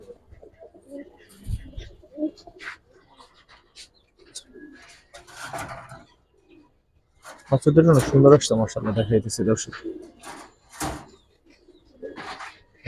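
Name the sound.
pigeons cooing in a loft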